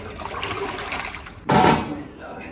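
Large amount of water poured from a bucket into a big pot for a 30 kg Kabuli pulao, a brief loud gushing splash after quieter kitchen noise, with a voice talking nearby.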